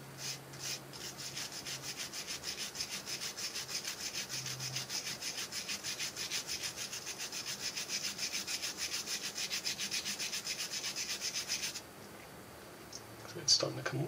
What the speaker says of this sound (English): this is stiff bristle brush. Let's see what happens when I try to start taking this off.